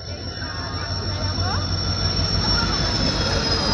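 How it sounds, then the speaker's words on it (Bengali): The Howrah Ispat Express rolls into a platform at Howrah station with a loud, continuous rumble and drawn-out squeals of wheels on rails, close by and building slightly as it arrives. "হাওড়া ইস্পাত এক্সপ্রেস আমাদের ঢুকছে,"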